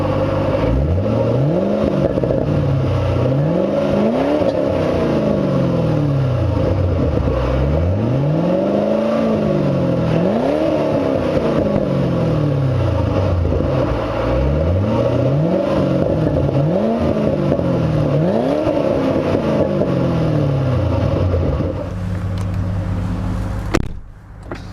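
A 2008 Ford Mustang GT California Special V8 revs repeatedly through its exhaust, each blip rising and falling in a steady rhythm of loud, close surges before cutting off near the end with a brief clunk.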